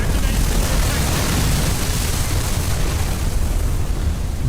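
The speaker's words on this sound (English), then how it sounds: "Ammunition detonation" Massive ammunition detonation explosion aboard a vessel in a submarine video game, a sustained roaring blast with deep rumbling low end that holds loud and steady without pause.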